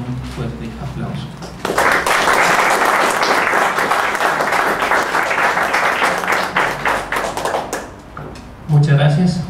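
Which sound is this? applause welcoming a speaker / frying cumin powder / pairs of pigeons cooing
applause welcoming a speaker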